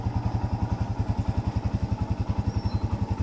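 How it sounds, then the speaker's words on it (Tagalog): A motorcycle engine idles smoothly after an overheating repair, a close, even, rapid putter with a steady rhythm throughout. "makikinig nyo napakapino na yung andar nito"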